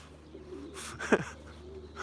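Young racing pigeons make a soft cooing call mid-clip, one short low burst standing out against quiet outdoor background hum.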